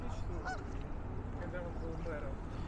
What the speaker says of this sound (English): It's a lot of swans.